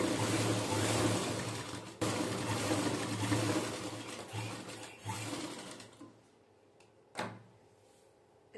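A sewing machine runs a straight stitch along a cushion cover, whirring steadily and close for several seconds before stopping, followed by a couple of brief handling clicks in near silence.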